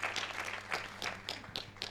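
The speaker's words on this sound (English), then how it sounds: "Clap your hands." A church congregation claps hands in a loose, uneven patter of sharp smacks, fairly distant and faint, with a low steady hum underneath.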